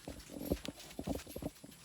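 Hooves clopping in a quick, uneven rhythm close by, with several sharp knocks and scuffs over a couple of seconds.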